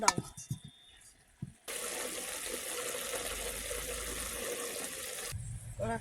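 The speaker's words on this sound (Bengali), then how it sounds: "জল দেবো" Water pours steadily into a cooking pan holding mangoes for making aamsotto, a loud continuous gush lasting a few seconds, with faint voices before and after.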